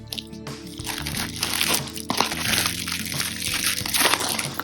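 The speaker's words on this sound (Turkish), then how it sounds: "dilerseniz paketimizi hemencik açalım" A cardboard package sealed with plenty of tape is torn open nearby, giving loud crunching, ripping and crinkling bursts of cardboard and tape in irregular succession.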